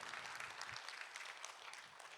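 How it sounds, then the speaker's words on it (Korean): A church leaders' meeting audience applauds, giving steady, dense clapping from many hands that carries on evenly throughout, moderately distant in a large room. "일어나서 인사하실 때 우리 함께 박수로 좀 격려해 주시면 고맙겠습니다."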